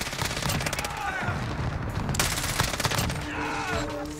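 FiNN LMG in Modern Warfare firing at a high rate, rapid sustained bursts of automatic gunfire crackling close and loud, with brief pauses between strings and a voice speaking faintly underneath.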